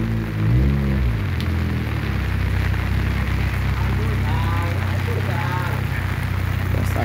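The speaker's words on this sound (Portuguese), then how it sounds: "Desde 11 horas que chove aqui em Araipina." Steady rain pours in Araripina, Brazil, in March, a dense, even hiss of drops hitting surfaces that runs throughout, while voices talk over it near the start and midway.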